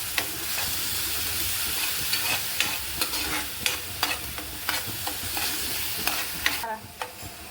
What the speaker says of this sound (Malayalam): നമുക്കൊന്ന് നന്നായിട്ടൊന്ന് ഇളക്കി യോജിപ്പിക്കാം.